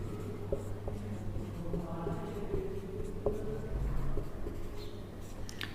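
Pen writing numbers on paper during a math lesson on the international number system, a soft continuous scratching with small taps, fairly close over a low steady hum.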